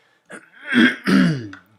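A close, harsh cough in two rough bursts with a throat-clearing quality, loud against silence.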